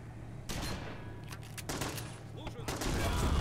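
Explosive weapon fire from an AGS-30 automatic grenade launcher in a World War III military video game, heard as a dense run of sharp bursts and blasts over a steady low rumble, loud and continuous, with a voice talking underneath.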